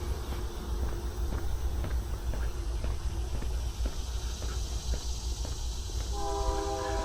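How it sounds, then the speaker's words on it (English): A train rolls past a park in summer, a steady distant rumble with faint rhythmic clatter, and its horn sounds near the end over the continuous low hum. "Here comes that train."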